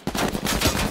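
Rapid automatic gunfire in the game H1Z1, a loud, close, evenly spaced string of shots filling less than a second without pause.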